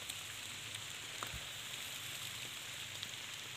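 Steady rain falling in a forest during a mushroom-foraging trip, a continuous broadband patter with occasional nearby drop hits, fairly quiet and even throughout with no voices.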